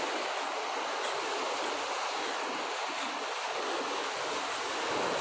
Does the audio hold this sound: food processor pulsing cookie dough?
no